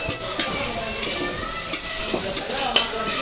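Food frying in a pan in a home kitchen, a steady loud sizzle with occasional scraping and stirring clinks, no voices.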